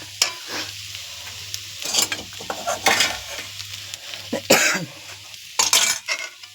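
Marinated crab masala being stirred in a pan, with scraping spoon strokes and clinks over a steady sizzle, in irregular bursts up close and no talking.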